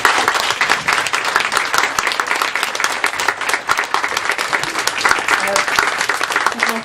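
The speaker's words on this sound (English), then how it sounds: "Please give me another round of applause for Ruth and Eve." An audience claps loudly for two speakers, Ruth and Eve, at the close of a talk on reconciliation. Crisp individual claps stand out within a continuous, energetic round of applause, with voices mingling faintly underneath.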